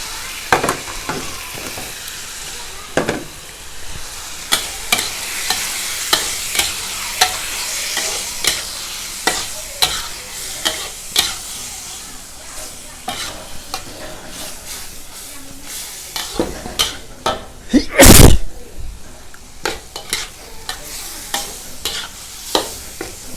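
Squid sizzles and hisses steadily in a hot pan, punctuated by repeated sharp scraping clicks of a utensil stirring, with one louder burst of sizzle near the end.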